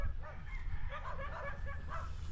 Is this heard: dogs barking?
yes